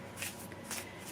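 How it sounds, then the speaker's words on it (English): Cards riffled and shuffled by hand at close range, two soft bursts of papery flutter in quiet surroundings. "let's shuffle this one up"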